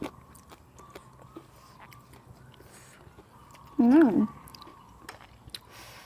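Dry, crunchy noodles from an old-style Thai dry noodle dish are chewed close up in soft, steady crunches, with a brief louder hummed vocal sound midway.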